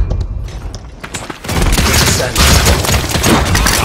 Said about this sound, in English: Enemies are firing on us.